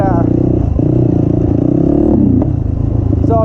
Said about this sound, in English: it has that same bog that all these stock 450s get from the accelerator pump